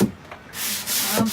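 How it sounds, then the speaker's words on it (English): Rough scratchy rubbing of sandpaper on wood, a few close strokes with short pauses between. "I'm sanding."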